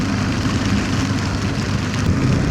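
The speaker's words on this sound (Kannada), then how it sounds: "ರೋಡಲ್ಲೇ ಮಳೆ ನೀರು ಬರ್ತಾ ಇದೆ." Rain pours onto a road during a motorbike ride from Kolhapur toward Made Ghat in Maharashtra, a steady dense hiss over a low rumble, close and continuous, with no voices.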